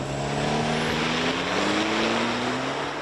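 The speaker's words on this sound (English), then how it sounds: "ZR2 hits 60 miles an hour in about 7 seconds." A 2024 Chevy Colorado ZR2 Bison pickup truck accelerates steadily, its engine note rising in pitch over a continuous, loud, close wash of road and wind noise, with no talking.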